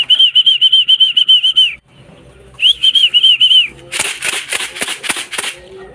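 Racing pigeons flap their wings while entering the loft, a burst of rapid, loud flutters near the end after high, sharp whistling chirps at the start.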